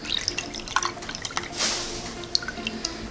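Water runs into a cooking pot for rice and peas in a restaurant kitchen, a steady close trickle with scattered drips and clinks, one brief louder rushing surge.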